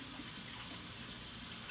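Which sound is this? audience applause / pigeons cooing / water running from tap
water running from tap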